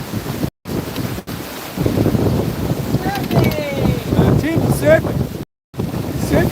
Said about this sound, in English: Turns out it's quite a strong breeze.